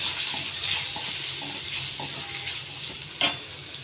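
Liver fries in a pan with a steady hissing sizzle while turmeric, coriander powder, salt and chili are stirred in, with soft scrapes and one sharper clink near the end.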